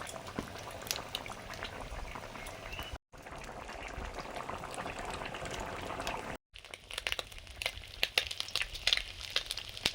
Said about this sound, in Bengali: ঝাল ফুটে গেছে, মাছগুলো দিয়ে দিচ্ছি